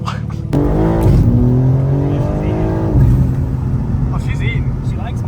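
A tuned BMW M240i engine idles loud and close, then revs up in a rough, throaty surge before settling back, with someone talking over it.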